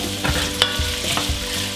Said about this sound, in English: Just give that a good stir.